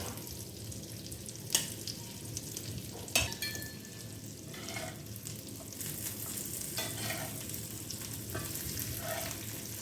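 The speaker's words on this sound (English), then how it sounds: "and give it a stir" Wet sizzling and frying of prawns in curry in a pan with occasional scraping stirs of a spoon, steady and close, no voices.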